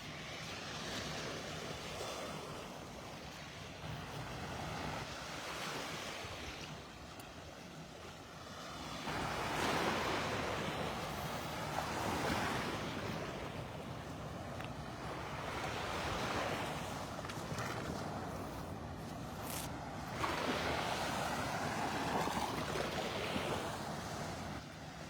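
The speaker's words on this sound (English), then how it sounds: "I'm walking out here on the beach." Ocean surf washing onto a beach in North Naples, Florida, a steady broadband roar with waves swelling and breaking every few seconds, joined by wind buffeting the microphone, no talking.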